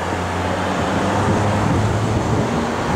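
A 1972 Plymouth Scamp Pro Street's engine runs steadily at idle: a continuous, close, deep rumble with a low droning hum and no talk over it.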